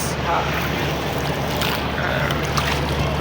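Large passenger launches on the Buriganga river rumble steadily in a low engine drone, with water wash and wind noise around them, heard from a small rowing boat.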